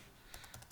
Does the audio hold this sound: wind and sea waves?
no